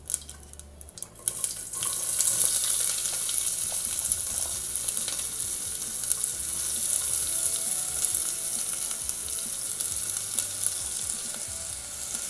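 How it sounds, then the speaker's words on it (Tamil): Chopped onions hit hot oil with popped mustard seeds and urad dal for broken wheat rava kichadi, setting off a loud, close, steady sizzle after a brief quieter start, with no talking. "இப்போ கடுகு வெடித்ததும் நம்ம நறுக்கி வச்சுருக்க வெங்காயத்தை சேர்த்துடலாம்"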